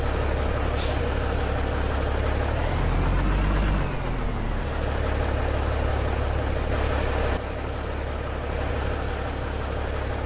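A Cummins N14 truck engine rated at 460 horsepower rumbles steadily in American Truck Simulator, a deep continuous drone with a sharp air-brake hiss near the start and a slight change in tone partway through, no voices.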